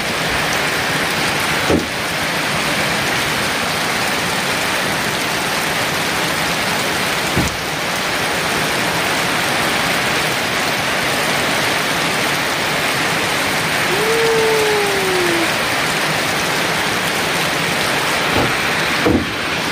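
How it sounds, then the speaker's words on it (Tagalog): Heavy typhoon rain pours steadily with a dense, hissing roar, broken by a few sharp drips and a brief faint whistle partway through. "Malakas na yung ulan guys."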